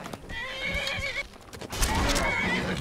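A horse in the video game Skyrim Dawnguard gives a loud, close whinny, followed by a brief pause and then a burst of hoof clatter and snorting.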